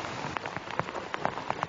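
Steady rain falls on a jungle, a dense patter of drops striking foliage and ground with a few louder close splats standing out, no voices.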